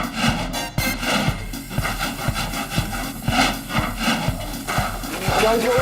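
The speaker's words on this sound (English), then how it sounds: "Scrape that stucco." Stucco being scraped off a wall during a kitchen renovation, a loud run of repeated rasping strokes at a steady rhythm, with voices talking over the scraping.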